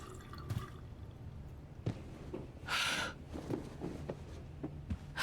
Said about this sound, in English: maybe I should rinse my hands off